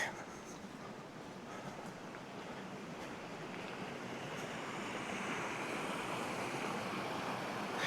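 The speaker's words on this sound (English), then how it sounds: "we're right here next to the creek" A creek runs beside a winter campsite with melting ice along its banks, giving a steady, close wash of flowing water that swells slightly louder over the span, with some wind buffeting in the background.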